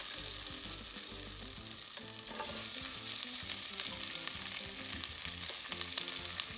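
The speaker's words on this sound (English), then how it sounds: "and we're going to start off with our butter. We're going to now add in our onions." Onions sizzle in melted butter in a pot over medium heat, a steady close frying hiss with faint stirring scrapes throughout and no talking.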